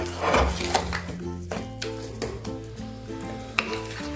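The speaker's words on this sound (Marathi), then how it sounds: "या कुकरमध्येच घोटून घेणार आहे" Toor dal puran is mashed and stirred inside a pressure cooker, with scraping, knocking and the clink of utensil on metal in an irregular rhythm that sits close and clear, with occasional sharper taps and no voice.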